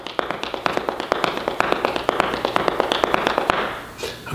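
Marimba mallets run through a one-handed roll exercise tapped on the floor, giving a quick, steady stream of sharp, dry clicks in a rolling pattern, close and fairly loud with no speech.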